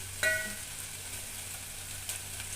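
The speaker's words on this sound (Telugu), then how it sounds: "ఉల్లిపాయ వేగిపోయింది" Onions fry in a pan with a faint, even sizzle. A single clink of a utensil comes near the start and a softer stir follows later. No one speaks.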